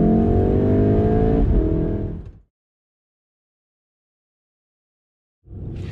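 A Volkswagen Golf R Mk7.5 engine revs loudly and pulls away hard from a start, the tone climbing briefly before it fades out into silence; the engine returns near the end.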